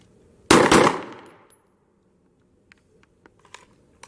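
Handgun fired from the 3-yard line in a timed shooting range drill, two loud gunshots in quick succession that ring out and fade, followed by a few small faint clicks.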